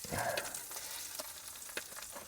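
Food frying in grease in a pan on a camp stove, a steady close sizzle with a few sharper pops and spatters over about two seconds, no voices.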